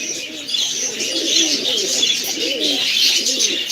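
Baska pigeons coo in repeated low, rolling phrases at close range, several overlapping, over a steady background hiss and faint higher chirps.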